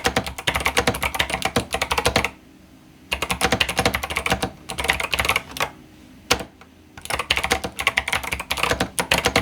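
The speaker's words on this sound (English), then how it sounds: "let's give a little bit of keyboard ASMR for all of you weirdos" Typing on an 8BitDo Retro mechanical keyboard, dense runs of crisp clacking keystrokes close up, broken by two short pauses, with no voices.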